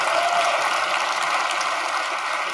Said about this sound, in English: can I get a big round of applause for Professor Edmund Phelps